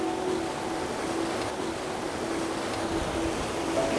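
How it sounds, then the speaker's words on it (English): A large volume of glacial river water rushes past in an alpine mountain setting, a loud, steady roar of turbulent flow that stays constant and close throughout with no voices. "It's a little bit loud down here with the volume of water going past."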